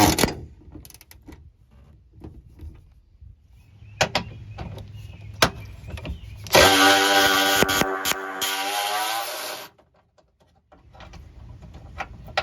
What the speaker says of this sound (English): Let's take some of these bolts off and throw it on.